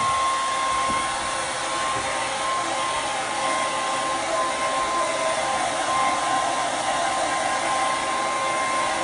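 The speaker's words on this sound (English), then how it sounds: "You're going to hear the noise of the hairdryer." A hair dryer blows continuously at a steady, loud level, a constant airy whoosh with a faint whine, with no other sounds.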